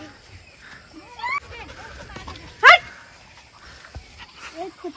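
A dog close by gives one sharp bark among soft whines and yips, with people talking faintly in the background.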